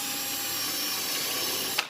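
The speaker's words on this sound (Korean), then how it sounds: "그렇기 때문에 나사 들어갈 구멍만 살짝 만드는 거예요." A power drill bores a shallow pilot hole for a screw in wood while a stool is built in a woodworking workshop, whirring steadily and close for nearly two seconds before cutting off with a short sharp click.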